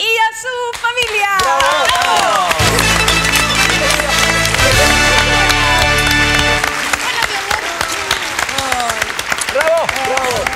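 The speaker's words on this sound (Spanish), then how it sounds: "vamos a recibir con un gran aplauso a don Américo Vera y a su familia." Studio audience applause on a 1998 Chilean TV game show mixes with loud band music and a sustained brass chord, with voices speaking over the clapping in the latter part.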